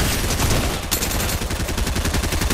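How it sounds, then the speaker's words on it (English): Rapid gunfire in a shooter video game, with dense repeated shots and bursts in close succession, loud and continuous throughout with no talking. "now they're both shooting us?"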